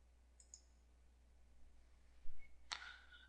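A computer mouse clicks a few times, close and quiet, with a short pause between clicks in an otherwise silent room.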